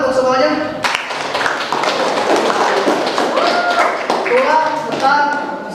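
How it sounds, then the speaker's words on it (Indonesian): Classroom clapping for everyone, a dense patter of hand claps filling the room while voices talk and call out over it throughout. "Tepuk tangan untuk semuanya."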